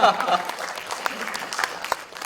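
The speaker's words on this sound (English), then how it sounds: "Huge round of applause to him." Audience applause at a panel discussion on architecture trends: dense, lively clapping from a crowd, fairly loud and sustained across the whole short stretch.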